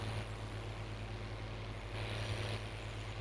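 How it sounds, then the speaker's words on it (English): A tractor engine drones loudly at high revs while pulling a planter across a field in Farming Simulator 19, a steady low hum with no talking. "Planter has got that tractor revved up"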